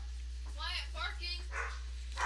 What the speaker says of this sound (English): Oh, the dogs are barking.